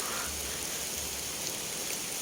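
Steady rain falls in an even, continuous hiss, with no voices or other distinct sounds over it.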